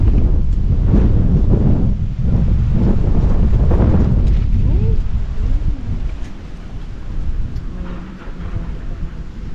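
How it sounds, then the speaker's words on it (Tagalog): Heavy gusts of wind rumble and buffet the microphone continuously in an open farm field, easing slightly toward the end, with faint voices in the background. "Sobra-sobra na rin yung hangin na to."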